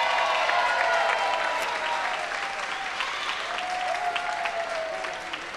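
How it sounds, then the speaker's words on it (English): An audience at a ballroom dance contest applauds the competing couples, producing sustained, dense clapping that stays loud and even throughout, with faint voices underneath. "a nice round of applause as we meet this evening's contestants"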